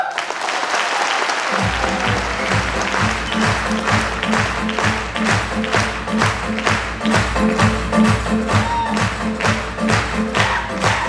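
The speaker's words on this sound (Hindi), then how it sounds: "एक बार जोरदार ताली।" A crowd bursts into loud applause during a motivational business speech, steady massed clapping that soon falls into a strong rhythmic unison beat, with faint voices underneath.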